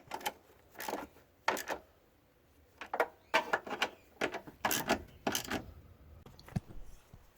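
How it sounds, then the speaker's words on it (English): A ratchet tightens the headlight bolts on a 2005-2010 Chevy Cobalt, giving faint close clicking bursts in short uneven runs with brief pauses between them. "And now we can just tighten the bolts with the ratchet."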